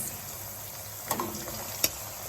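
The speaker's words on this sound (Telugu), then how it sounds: "అల్లం వెల్లుల్లి పేస్ట్ మంచిగా ఫ్రై అయిపోయింది." Ginger garlic paste fries in a pan with a steady, quiet, close sizzle, broken by a couple of brief clicks of a utensil stirring, with no talking.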